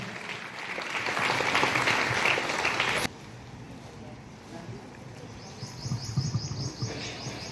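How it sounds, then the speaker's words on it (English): Audience applause for a student honoured at an SSC results felicitation, steady broadband clapping for about three seconds, then it breaks off into a quieter room with murmuring voices and faint chirping. "Big round of applause to her."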